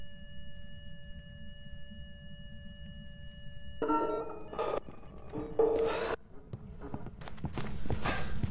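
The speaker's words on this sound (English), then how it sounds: "That's her walking in the truck." Ghost footsteps walking inside the truck in the video game Phasmophobia, a series of scuffing, rasping steps on a wooden floor over a steady low hum, close and irregular, with no talk.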